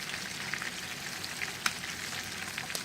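Shrimp sizzle on a grill in a steady, soft crackle with a few small pops, quiet and continuous with no voices.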